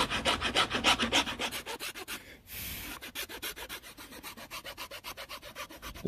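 Hand file rasping across a wooden split pattern for a sand-cast hand wheel, in steady rhythmic back-and-forth strokes, close and clear, with a brief pause partway through.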